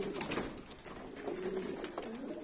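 Domestic Arab posta pigeons coo in a loft, with soft repeated throaty calls close by and some shuffling, and no talk.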